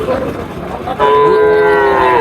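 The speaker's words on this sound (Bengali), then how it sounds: "বড় গাভী" A large dairy cow lows loudly at a busy rural cattle market in Chapainawabganj, Bangladesh, a drawn-out moo rising over crowd chatter and bargaining voices.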